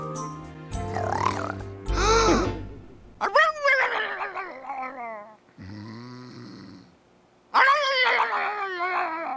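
A dog in an animated cartoon makes loud snoring grunts, snorts and whimpering noises that come in several bursts separated by short gaps, close and prominent.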